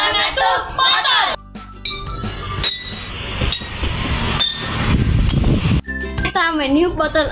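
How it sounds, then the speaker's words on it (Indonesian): Bottles are tapped in a classroom science experiment, giving sharp clinks and knocks amid room noise. Someone speaks before and after. "Mengetuk botol."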